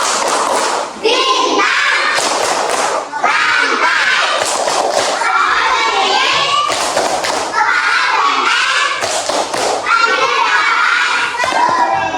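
Children in a classroom perform a rhythmic Pancasila symbol clapping chant, loud and close, with shouted chanting voices and sharp claps repeating in bursts throughout, ending in cheering.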